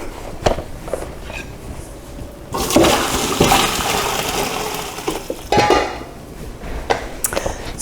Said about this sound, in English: Then in goes the strainer, and then in goes the stock.